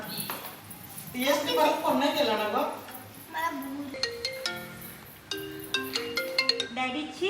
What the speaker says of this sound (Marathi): डॅडींचा फोन आलाय